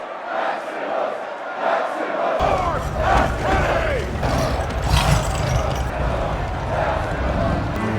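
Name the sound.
arena crowd cheering in gladiator film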